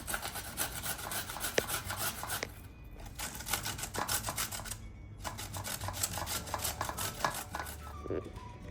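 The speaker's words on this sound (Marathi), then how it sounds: "आता हे आपण मोठ्या खिसणीने हे सगळं खिसून घेणार आहोत" Carrot, cucumber, onion and potato being grated on a large kitchen grater: steady repeated rasping strokes, close and fairly loud, with two short pauses between bursts.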